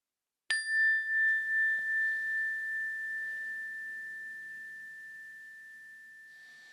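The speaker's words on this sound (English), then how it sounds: "when you hear the bell" A single meditation bell struck once, ringing with a bright sustained tone that slowly decays over several seconds, clear and alone in a quiet room.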